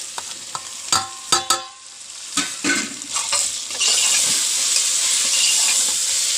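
Wilted onions fry in a pan with chilli, coriander and turmeric powders, fennel and masala for a Kerala beef curry: a few sharp stirring scrapes and knocks, then a loud steady sizzle that swells and holds to the end.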